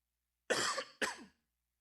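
Two sharp coughs in quick succession, close and fairly loud, followed by silence.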